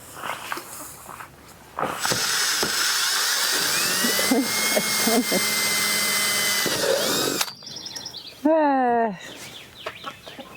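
A power drill whines steadily for several seconds while building a chicken tractor roof cover, then stops, followed by short bursts of higher whirring and some scattered noises around it.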